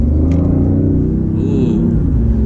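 A 2015 BMW i8 hybrid sports car in sport mode accelerates from the cabin, its engine a deep, steady rumbling drone with rising harmonic tones, loud and continuous throughout.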